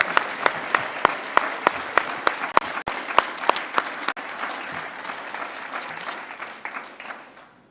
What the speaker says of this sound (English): give a round hand of applause to our executive mayor